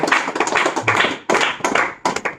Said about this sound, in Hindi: जोरदार ताली मारो उसके लिए।